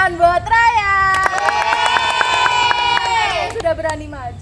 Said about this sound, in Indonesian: Beri tepuk tangan buat Ryan.